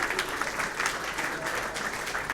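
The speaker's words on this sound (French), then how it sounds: "Applaudissez, s'il vous plaît." A crowd applauds at a music awards ceremony, a steady wash of clapping with a few brighter individual claps standing out, continuous and moderately loud, with no speech over it.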